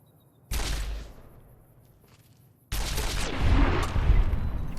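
Energy weapon fire from a recharger gun against ghouls in Fallout New Vegas, with two loud bursts of shots, the second longer and heavier, separated by a quieter gap.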